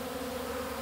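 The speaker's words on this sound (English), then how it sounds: "You'll watch the bees, they approach the hive carefully." A soft, steady insect buzz hums continuously, like honey bees droning close by a hive at a low, even volume.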